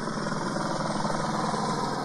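A helicopter engine passing over a desert rally gives a steady, loud, dense droning roar that holds constant with no talk.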